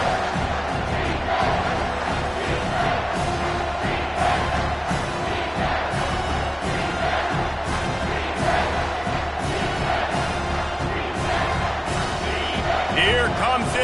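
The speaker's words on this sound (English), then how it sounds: "Here comes this home crowd as the defense tries to get off the field on 3rd down" Home crowd at a football game roars steadily as the defense faces third down, a dense, sustained wall of cheering and shouting with occasional thumps, and a commentator talks over it.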